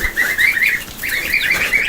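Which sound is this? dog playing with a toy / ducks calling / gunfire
ducks calling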